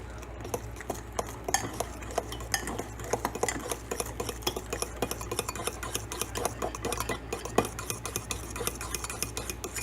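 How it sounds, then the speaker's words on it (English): Keto cheesecake ingredients are stirred in a bowl, making quick, regular clicking and scraping strokes that repeat steadily throughout at a moderate, close level. "now we're going to stir these bad boys up"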